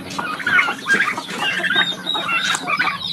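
Farm chickens cluck continuously in a close, busy flock during a morning routine, overlapping calls rising and falling with no talking.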